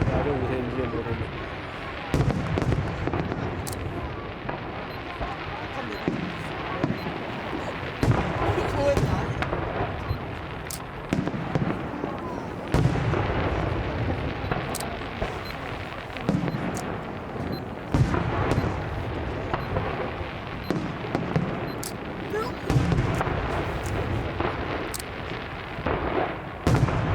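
New Year fireworks burst over Janfusun Fancyworld in Taiwan, a continuous run of loud booms and sharp crackling cracks echoing at irregular intervals, with spectators chatting nearby throughout.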